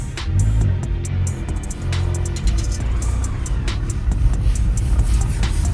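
An Audi TT bought abandoned at auction drives uphill, its engine a continuous close rumble mixed with road and cabin noise, fairly loud with scattered knocks and clicks, no talk over it.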